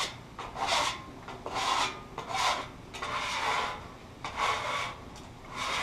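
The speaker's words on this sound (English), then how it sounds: "Light little scrub." Repeated scrubbing strokes across a hot Blackstone griddle's steel cooking surface, rhythmic rasping bursts about every second, close and fairly loud with no talking.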